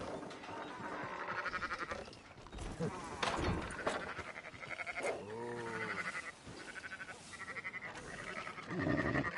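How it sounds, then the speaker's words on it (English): Sheep in Red Dead Redemption 2 bleat over a busy game soundscape, with one clear wavering bleat midway and other calls mixed into the background. "Fine sheep."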